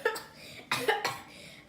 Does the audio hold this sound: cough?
yes